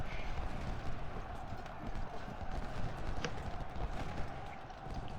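Faint, steady rumble of cavalry horses galloping in the Civil War battle game Ultimate General, a continuous drumming of hooves under low battlefield noise.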